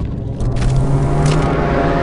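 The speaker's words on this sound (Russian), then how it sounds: "Снизу слышно звук работающих машин." Heavy machinery grinding away below in Star Wars Republic Commando, a loud, steady industrial rumble with a low droning hum and faint mechanical clatter on top, continuous and close.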